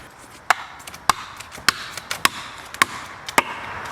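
A hammer strikes a felling wedge driven into the cut of a tree beside buildings, giving about eight sharp, ringing metallic blows at a steady pace, close and loud over faint outdoor background.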